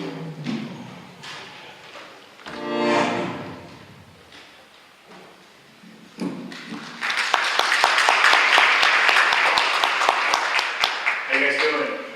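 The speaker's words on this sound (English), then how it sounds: "Let's give him a warm round of applause." Audience applause at a blockchain summit in Tokyo builds from about the seventh second into sustained, dense clapping that fills the rest of the hall, after earlier stretches of a voice and muffled room noise.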